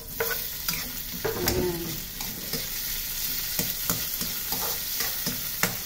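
Mussels, garlic and onion sizzle in a hot pan as tomatoes go in, with frequent clinks and scrapes of a spoon stirring throughout and a brief word spoken near the end.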